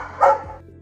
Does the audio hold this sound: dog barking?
yes